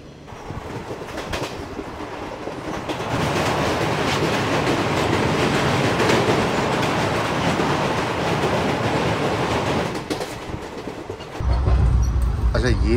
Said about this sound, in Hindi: चंडीगढ़ कालका वाली लाइन जिसमें कालका शताब्दी एक्सप्रेस का अराइवल जो है बस होने वाला